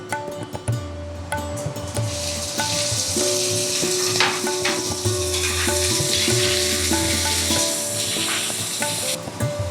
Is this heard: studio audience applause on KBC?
no